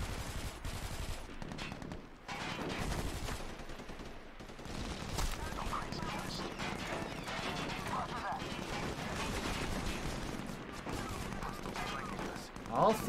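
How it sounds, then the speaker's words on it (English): Continuous gunfire and battle noise in the video game SOCOM 4, a steady loud wash of shots and explosions throughout, with voices speaking over the din. "Why are you guys shooting at me?"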